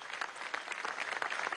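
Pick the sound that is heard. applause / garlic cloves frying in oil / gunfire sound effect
applause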